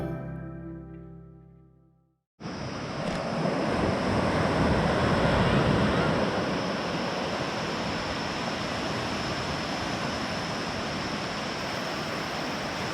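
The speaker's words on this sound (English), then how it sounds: "I'm just down on the beach now, in front of Phayam Lodge" Steady broadband rush of surf and wind on the beach at Koh Phayam, Thailand, starting abruptly after a short muffled opening and holding loud and continuous, with a slight swell midway and no voices.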